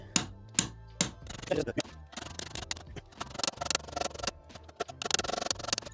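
Metal tapping on a steel dowel set against another dowel while working on floor beams, a run of sharp clinking hits, sparse at first and then quick and dense, close by and without talk.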